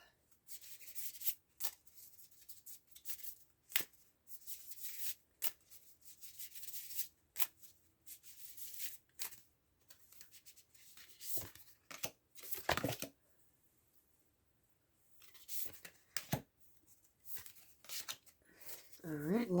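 Tarot and oracle cards shuffled in the hands, with repeated sharp riffling bursts and soft rubbing between them, fairly close. A quiet voice is heard faintly in places.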